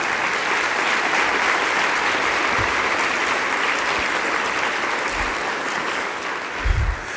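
Sustained audience applause for Mr. DeNeen at a keynote on the Red Summer of 1919 and the Tulsa Race Massacre, thick steady clapping from a large crowd, with a few low thumps near the end.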